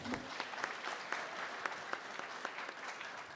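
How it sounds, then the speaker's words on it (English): A crowd applauds at a ceremony marking peace education in Zimbabwe's prisons, a continuous, even patter of many hands heard from a distance and fairly faint, sustained throughout with no talking over it. "A round of applause, ladies and gentlemen."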